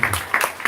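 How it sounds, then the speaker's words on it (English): Brief burst of audience applause at a press conference for a Nigerian political figure, a quick, fairly loud crowd clapping with a few distinct sharp claps. "Please, another round of applause for His Excellency"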